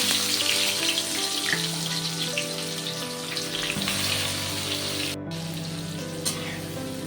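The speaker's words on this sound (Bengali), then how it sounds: "এবার ওগুলো আমি ভালো করে লাল লাল করে ভেজে নেব। তেলের মধ্যে দিয়ে দিচ্ছি।" Chopped onions frying in hot oil in a home kitchen pan, a loud, dense, continuous sizzle and crackle that holds steady throughout with no talking.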